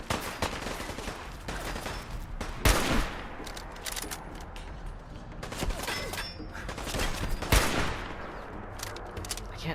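Gunshots crack in Fallout 4, with repeated bursts of gunfire and scattered sharp reports ringing out loud and close amid dense, rumbling combat noise.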